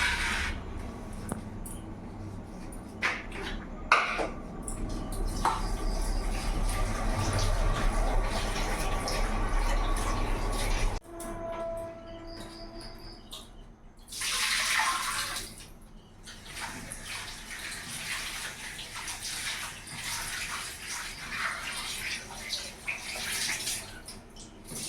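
Cut moringa drumsticks are washed under a running tap, water gushing and splashing steadily into a basin for about eleven seconds, then lighter intermittent splashes, a brief louder rush and softer trickling as the pieces are handled.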